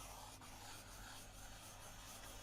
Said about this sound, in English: The sound of pencil on the paper, it is a very calming sound.